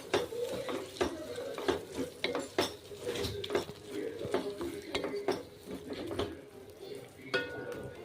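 A spoon stirs yogurt into biryani masala in a cooking pot, giving steady scraping with frequent sharp clinks of metal against the pan, close and moderately loud with no talking.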